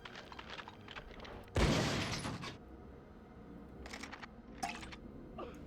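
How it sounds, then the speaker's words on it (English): A shotgun being reloaded in the 1999 Medal of Honor video game: a loud mechanical blast-like clack near the middle, surrounded by quieter clicking and rattling handling sounds. "Reload my shotgun."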